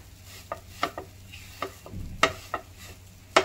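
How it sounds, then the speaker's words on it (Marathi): Grated coconut, ground in a mixer, is dry-roasted in a pan: a steady faint sizzle with about eight sharp scraping strokes of a spatula at irregular intervals, close and alone. "हे नारळाचा आपण मिक्सर मधून काढलेला आहे नारळाचा बुरादा, त्याला भाजून घ्यायचं"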